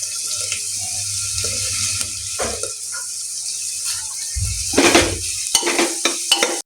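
Masala rice mixture with biryani masala being stirred in a pan, a steady scraping and swishing with faint sizzling throughout, growing louder and choppier toward the end, with no voices.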